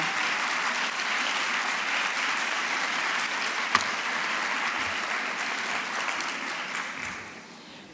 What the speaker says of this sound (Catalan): M'aplaudiu a mi perquè esteu acostumats a aplaudir a qui surt a l'escenari